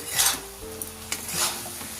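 A lid is lifted off a pot of drumstick flowers and potatoes cooking down in a pan, with a sharp metallic clank and a soft scrape over steady close sizzling and stirring.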